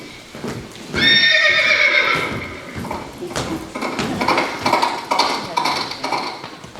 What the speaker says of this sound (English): The servants have fetched you our fastest horse.